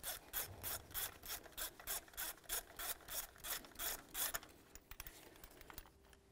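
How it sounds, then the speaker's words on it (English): A spark plug socket is turned counterclockwise to back a spark plug out of a 2003–2012 Toyota Matrix engine, giving a quiet, rhythmic series of about a dozen ratcheting scrapes that thin out into faint rubbing. "Go ahead and put it right down in there, turn it counterclockwise, and remove the spark plug."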